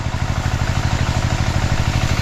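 Farm irrigation pump engine running at night to water okra, a loud, close, steady chugging beat with rapid regular pulses and mechanical clatter, no talk over it.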